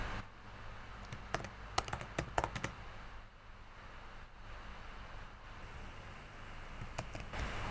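Keyboard typing as a prompt is written for Canva AI data visualization: irregular bursts of quiet, crisp key clicks, clustered in quick runs with short pauses, over a faint steady background hum.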